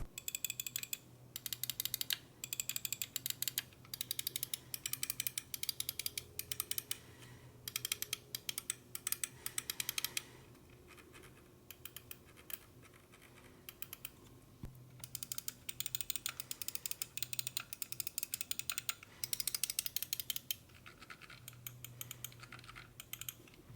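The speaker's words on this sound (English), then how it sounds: "As far as the clicks go, I think both of them are very good." Rapid bursts of crisp mouse button clicks from Lamzu and Pulsar ergonomic gaming mice (XLite v3, Thorn), close and dry, in dense clusters with brief pauses and no talk.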